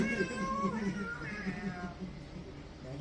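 A cat meows several times in drawn-out, wavering cries over a steady low background hum, fairly close and moderately loud.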